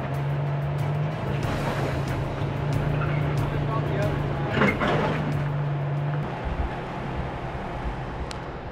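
A Toyota 4Runner labours up a rocky off-road trail while overlanding in northern Colorado. Its engine holds a steady low drone for about six seconds and then drops away, with voices heard nearby.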